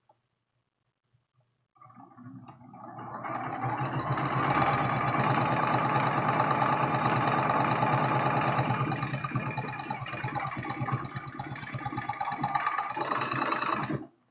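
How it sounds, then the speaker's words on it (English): A sewing machine runs a quilt block seam, starting after a couple of faint clicks and then whirring in a rapid, steady, close mechanical stitching rhythm for about twelve seconds. "we're going to flip it around and sew right back down the other side"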